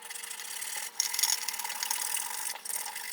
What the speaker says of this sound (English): I'm going to shorten this pin using my little Japanese saw.